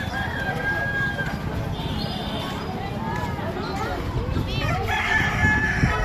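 Several roosters crow from a distance during rainy weather at the Bahucharaji Mata shrine in Shankhalpur, over a steady hiss of background noise, with voices mixed in.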